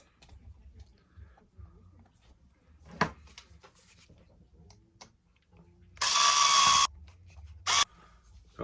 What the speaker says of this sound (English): Install the lower bumper brace, again using the same countersunk screws from before